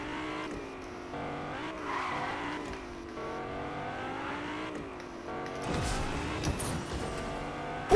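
A Lamborghini driven in Fortnite, its engine droning steadily with tire skidding and squealing building near the end, fairly continuous and moderately loud, with no talk over it.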